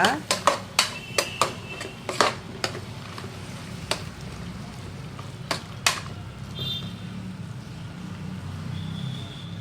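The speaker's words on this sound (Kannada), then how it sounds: "ಸ್ವಲ್ಪ ಫ್ರೈ ಮಾಡ್ಕೊಳ್ಳೋಣ. ಇದು ಒಂದು 5 ನಿಮಿಷ ಫ್ರೈ ಮಾಡೋಣ." Ground masala paste frying in a pan for a mixed vegetable saagu. A burst of sharp spoon clanks against the pan comes first, then sparser taps over a low, steady sizzle, close by and without talk.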